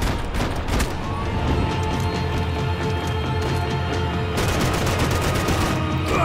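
Sustained gunfire from the video game Max Payne 3, a dense, loud barrage of overlapping shots and impacts filling the whole stretch, with a heavier burst near the end.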